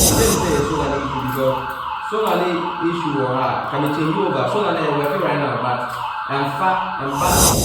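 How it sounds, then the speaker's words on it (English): A neighbor's extremely loud wailing siren-like alarm in Ghana rises and falls continuously, with people talking over it throughout. "one of our neighbors, his alarm kept going off and it's extremely loud."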